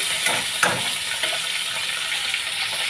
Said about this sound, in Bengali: মাছের মাথাটা আমি আগে ভেজে নিই তাই আমি চাল কুমড়োর কড়াটা নামিয়ে মাছটা আগে ভেজে